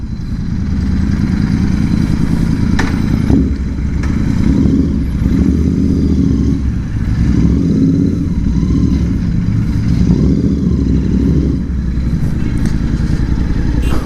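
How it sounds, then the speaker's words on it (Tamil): A fully modified 2024 Royal Enfield GT650 motorcycle at full throttle gives a loud, continuous exhaust roar that surges and eases in waves for the whole stretch, with no talking. "ஃபுல் த்ராட்டில் ஒன்று பண்ணிட்டு போயிடுவோம் கைஸ்."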